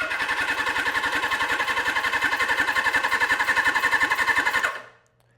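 Suzuki GS750 motorcycle engine cranking over on the starter during a compression test, a fast steady loud chugging rhythm for several seconds that stops abruptly near the end.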